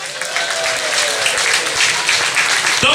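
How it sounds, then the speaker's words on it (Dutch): A full hall applauds during a carnival song contest awards evening, loud dense clapping filling the room, with a voice briefly audible near the end. "Het applaus is in de zaal."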